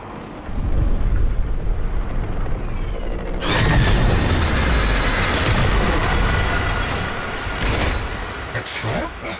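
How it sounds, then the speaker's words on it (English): A train rolls in with a loud rising rumble, followed by a sustained roar with high metallic squealing tones over it, in the video game Warframe. "The next train is arriving."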